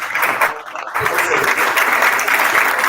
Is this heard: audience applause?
yes